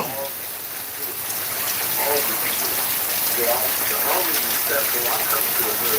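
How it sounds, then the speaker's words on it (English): Heavy rain pours outdoors as a dense, continuous hissing wash of water, loud and close throughout, with a voice talking faintly underneath. "It is raining hella bad out here."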